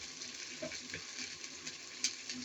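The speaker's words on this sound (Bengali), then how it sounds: "আমি চিংড়িগুলি একটু তেলের মাঝে ভেজে নিচ্ছি" Prawns frying in oil for a shorol pola recipe, a steady close hiss and crackle with a few small pops and a brief clink of a utensil.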